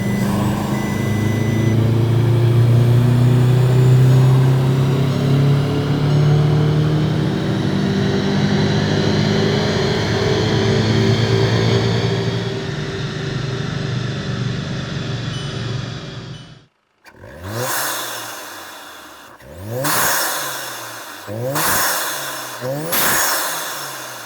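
A VW EA888 engine fitted with a Ramair intake pulls hard on a dyno in a long, loud, rising run, then cuts off and snaps through several sharp throttle blips.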